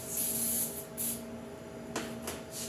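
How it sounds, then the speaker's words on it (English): Short bursts of aerosol cooking spray hiss onto chicken pieces, one long spritz followed by a few quicker ones, close up against a steady low hum. "you're going to spray the top of each piece of chicken."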